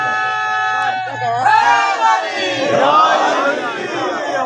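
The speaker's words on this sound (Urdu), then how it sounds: "یعنی کہ بچے نعرے لگا رہے ہیں" A crowd of children at a religious gathering chanting slogans in unison, loud and close, with overlapping voices swelling and blending into a continuous shout.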